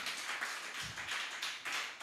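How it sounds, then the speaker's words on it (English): Audience applause at an export summit, a steady wash of many hands clapping at moderate level throughout, with slight pulses in intensity and no voices on top. "Please, a round of applause for him again."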